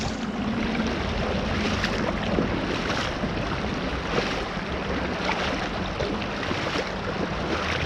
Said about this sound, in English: That water's moving.